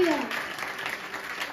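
A church congregation claps together in a steady, dense burst of applause, with a voice heard briefly at the start.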